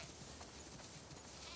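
Sheep in the video game The Last of Us Part II give faint bleats over a soft low ambient bed, brief and fairly distant.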